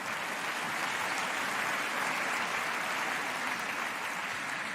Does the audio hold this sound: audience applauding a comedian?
yes